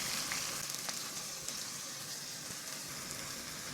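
Beaten egg poured into a hot wok for Chinese-style shrimp and egg fried rice, a soft continuous sizzle and crackle with faint pops, no voices.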